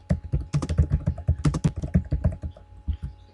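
Fingers type on a computer keyboard while entering text into an Excel spreadsheet: a loud, close, busy run of clacking keystrokes in uneven bursts, with no voices.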